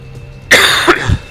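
One sharp, close cough bursts out and trails off into a brief throaty rasp.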